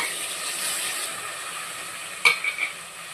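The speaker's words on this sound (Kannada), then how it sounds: "ಮಟನ್ ಹಾಕ್ಕೊಂಡು ಫಸ್ಟು ಎಣ್ಣೆಲಿ ಮಿಕ್ಸ್ ಮಾಡ್ಕೊಳ್ಳೋಣ" Mutton tossed into hot oil with softened tomato gives a steady, close sizzle throughout, broken near the end by one sharp spatula scrape and a brief louder crackle.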